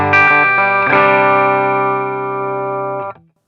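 An electric guitar played with added gain through a Line 6 Catalyst 100 amp rings out as a loud, gritty sustained chord, re-struck once early on, then slowly fading before cutting off.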